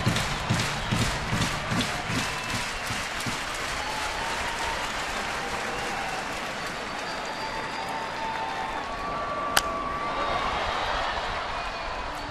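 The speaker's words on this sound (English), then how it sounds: "Pretty lively crowd here at Dodger Stadium right now." A lively baseball crowd at Dodger Stadium fills the air with steady applause and broad crowd roar, rhythmic clapping early on, then a sustained wash of cheering and chatter with a single sharp knock near the end.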